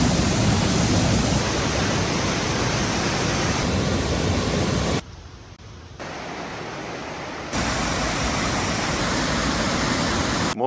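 Waterfall at Johnson Canyon in Banff National Park, a steady broadband roar of falling water, loud and close, with a brief dip in level midway before the constant rush returns.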